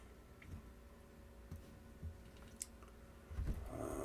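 Light tapping on a computer keyboard comes through as a few sparse, quiet clicks, with a denser burst of keystrokes near the end.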